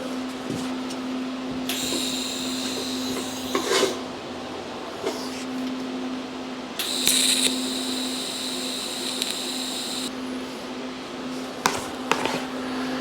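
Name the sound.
welding tack welds on a 1981 Sportster hardtail frame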